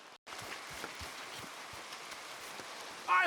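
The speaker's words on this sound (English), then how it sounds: "Come on, it's raining." Steady rain falling in Red Dead Redemption 2, a soft continuous patter on the ground with scattered heavier drops, broken by a brief silence at the start and a louder sound at the end.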